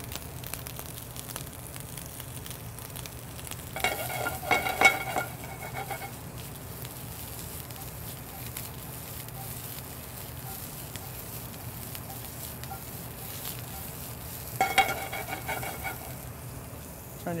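Asparagus sautéing in a pan with salt and black pepper, a steady soft sizzle running throughout, with two brief louder bursts of stirring and pan movement partway through.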